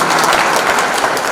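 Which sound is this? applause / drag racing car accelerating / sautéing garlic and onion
applause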